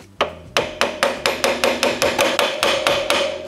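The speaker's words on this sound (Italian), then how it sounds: "Io in questo caso mi aiuto con una vite lunga, così, e diamo dei colpi." A long screw is hammered against a heavily rusted cotter pin on a vintage bicycle crank, giving about fourteen sharp metallic blows in a steady, quick rhythm, loud and close with no talk.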